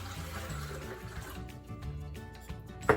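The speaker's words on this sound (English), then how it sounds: "32 ounces mason jar full of this filtered drinking water, and I'm gonna put this into my high-speed blender" Filtered drinking water pours from a 32-ounce mason jar into a Vitamix high-speed blender when making almond or cashew milk, a soft, faint continuous splashing stream that rises into a brief louder splash at the end.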